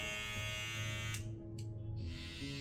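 A steady, loud electric buzz from a Babyliss hair trimmer with a worn blade, droning continuously with a slight rough edge to the tone.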